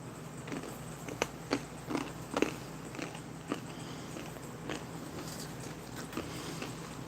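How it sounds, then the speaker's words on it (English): Several crisp, crunchy bites of almonds from a 2013 US MRE ration, chewed close to the mic in an irregular run of sharp cracks over steady low background hum. "Munching on the almonds."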